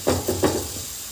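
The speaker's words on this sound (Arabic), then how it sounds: "هنزل معايا بالرز المغسول، هقلب" Washed rice being stirred in a frying pan, a few quick scraping strokes with a soft sizzle underneath, close and brief.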